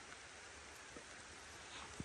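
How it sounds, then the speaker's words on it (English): Rain falls at night in Goodlesberg Cemetery, a soft, even hiss that stays faint and unbroken throughout, with a couple of small, dull taps. "now that it's raining, it's getting a little harder to record"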